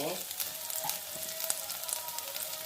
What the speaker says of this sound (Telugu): మూడు పచ్చిమిరపకాయలు కొద్దిగా కరివేపాకు వేసుకొని కొంచెం వేపుకుంటాము చూడండి వేపు వేగుతాండే కదా